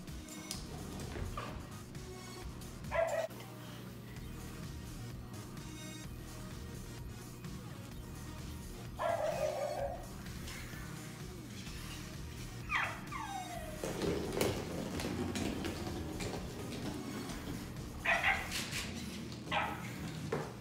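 A WowWee Chip robot dog toy gives several separate electronic barks and yips, spaced a few seconds apart over a low steady hum.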